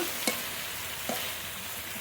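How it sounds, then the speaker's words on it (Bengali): Eggplant pieces fry in a pan at a faint, even hiss, with two soft stirring clicks from being turned over. "খুব ভালো করে ভেজে নেব বেগুনগুলো নেড়ে নেড়ে"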